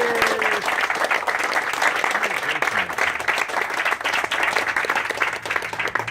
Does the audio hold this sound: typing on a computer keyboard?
no